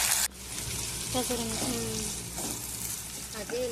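Tomato pieces frying in a pan for spicy tomato rice while being mashed and stirred, a soft continuous sizzle under faint scraping and brief spoon knocks, after a short louder burst at the start.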